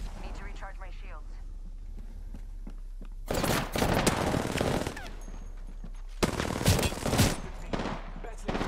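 Gunfire in the video game Apex Legends comes in two loud rapid bursts of automatic shots a few seconds apart, close and harsh, with a player's voice talking quietly in between.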